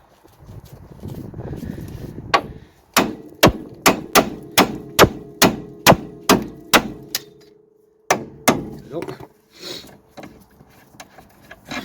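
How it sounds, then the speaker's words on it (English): Repeated sharp metallic hammer strikes on a tapered steel steering joint of a Mercedes C-Class ring out in a steady rhythm, about a dozen blows, pausing briefly before several more hits. "hitting this with a hammer just releases that and allows it to come out."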